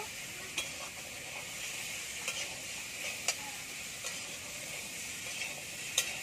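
Vegetables are stir-fried with salt, giving a soft, steady sizzle under repeated sharp scrapes and taps of a utensil against the pan, spaced about a second apart, with no voices.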